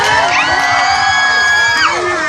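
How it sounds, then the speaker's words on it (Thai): Audience at a film promotion event at a Major cinema cheering and whooping for a young actress, with high shrieks and shouts rising and falling over a steady crowd roar, loud and close. "ขอเสียงปรบมือให้กับน้องก้าวด้วยค่ะ"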